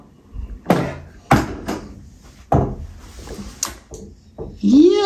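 A door knocks and bumps against an Apple PowerBook laptop wedged as a doorstop, several loud hollow thuds and clunks spaced through the clip, with a brief voice near the end.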